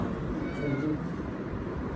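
A cat meows once, close and clear, in a home setting where a family has brought their pet cat along, with quiet voices and room noise underneath.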